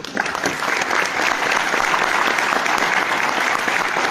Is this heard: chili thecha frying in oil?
no